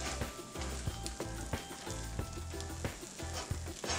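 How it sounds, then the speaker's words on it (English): Flour cooks in a hot pan for a chicken puff filling, giving a continuous close sizzle with periodic sharper ticks and scrapes as it is pressed and stirred. "I still want to make sure that my flour cooks out"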